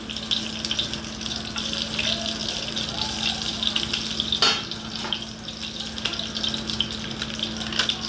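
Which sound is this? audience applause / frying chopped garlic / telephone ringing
frying chopped garlic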